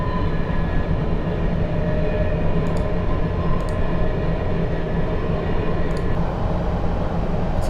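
A London Underground S7 stock train in Train Simulator 2019 runs with a loud, continuous rumble and steady motor whine, broken by a few brief clicks as it travels along the line.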